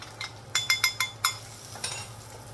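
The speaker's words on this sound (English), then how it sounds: "mix that up. Get it all nice and blended." A utensil clinks and scrapes against a dish while mixing garlic powder, onion powder and seasonings for glazed salmon: a quick run of five or six sharp taps, then a softer stir, close and fairly quiet.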